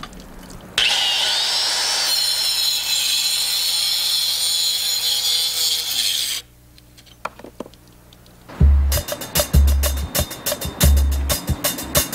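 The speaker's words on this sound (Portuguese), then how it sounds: "Existe uma máquina especial para cortar blocos, mas tem que usar com cuidado." A special masonry saw cuts through concrete building blocks on a construction site, a loud steady grinding whine that runs for several seconds, stops, then gives way to rhythmic heavy knocks and bangs.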